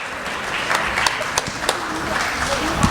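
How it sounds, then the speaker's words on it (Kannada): Applause from a crowd of children and adults at the Ottawa Kannada School annual day, steady clapping throughout with a few sharper claps standing out. "ಜೋರಾದ ಚಪ್ಪಾಳೆ, ಮಕ್ಕಳ ಚಪ್ಪಾಳೆ."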